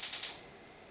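A stove knob is turned to heat a skillet, giving three quick clicking ticks close by, bright and brief, then quiet.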